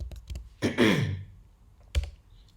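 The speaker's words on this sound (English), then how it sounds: "So I'm going to type in my password" A password is typed on a computer keyboard while a bootable macOS Catalina USB is being set up, with a few quick close key taps, a longer rattling burst and a final firm keystroke. There is no talk.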